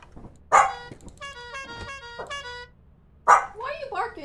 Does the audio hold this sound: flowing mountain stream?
no